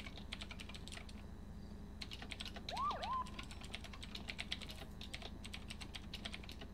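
Steady keyboard typing during a GTA V roleplay session, a fast, even patter of soft clicks with a brief faint siren-like chirp partway through and no voices.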